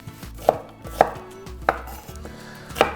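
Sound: chopping onion into thick cubes

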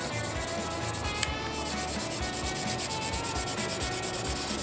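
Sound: sanding a plastic model car body, Fujimi Enzo Ferrari kit

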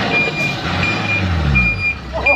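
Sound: six-wheel truck reversing with reversing beeps

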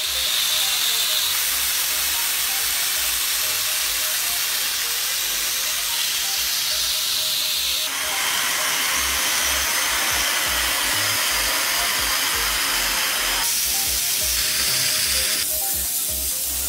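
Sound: upholstery vacuum cleaner cleaning a sofa

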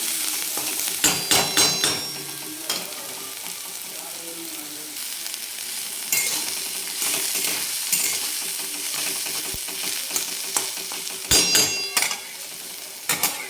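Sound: onion sautéing in a little oil

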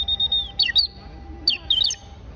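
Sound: hunting bird call instrument imitating bird chirps, Brazil

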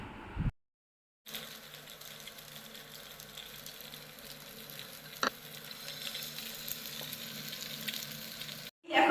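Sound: battered paneer deep frying in oil

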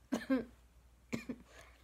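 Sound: coughing

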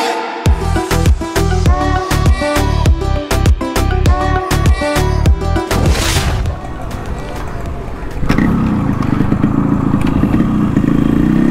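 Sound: Yamaha RX 100 motorcycle kick started, engine running

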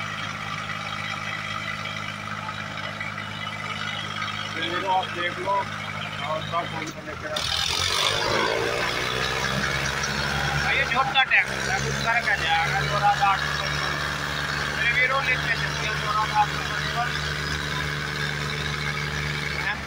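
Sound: Swaraj 855 and Mahindra 605 tractors in tug-of-war contest

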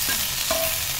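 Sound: sautéing coconut and mint for chutney

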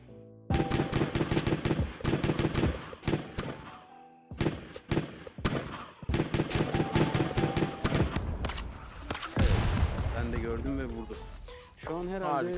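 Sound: gunfire from the VR video game Zero Caliber

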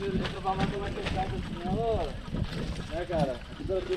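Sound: cold wind blowing on a bike trail

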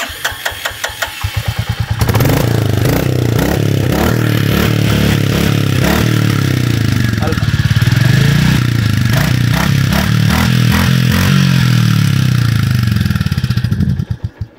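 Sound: Royal Enfield Classic 350 motorcycle engine running

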